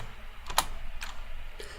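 Computer keyboard keys tapped while entering Python commands, three sparse, crisp clicks spaced about half a second apart against a quiet room.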